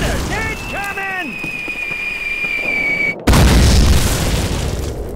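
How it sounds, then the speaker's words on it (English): Mortar shells in a Call of Duty war game, a high descending whistle of an incoming round ending in a loud, close booming blast that rumbles on, with shouted voices early on. "Mortars! Incoming!"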